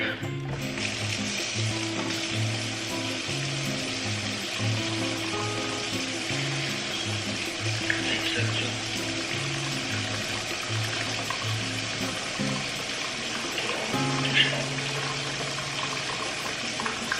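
Tap water running steadily into a sink, a continuous hissing splash that carries on alone, with a tonal patterned buzz and a couple of knocks underneath.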